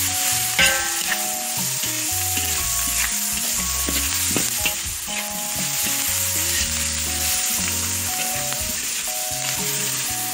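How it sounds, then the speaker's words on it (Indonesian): Chilies sizzling and crackling in hot oil in a pan while cooking spicy Indonesian rica rica chicken, a steady close frying hiss with scraping stirring noises throughout. "lalu kita bisa masukkan cabenya nih guys"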